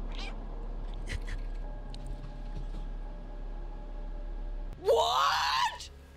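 A person imitating a cat, one loud, close, drawn-out meow with a rising and falling pitch, following a stretch of quiet room noise with soft clicks.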